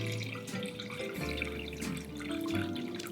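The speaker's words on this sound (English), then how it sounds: "So I've got some hot water, and you're just gonna pour it till it comes up about halfway up the side of the ramekin." Hot water poured into a baking dish around crème brûlée ramekins for a water bath, a soft, continuous trickle and splash heard close up and fairly quiet.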